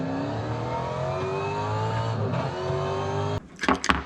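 A V8 supercar engine in a racing sim game holds a steady high whining drone, its pitch slowly creeping, then drops sharply as a few rising revs and bursts follow.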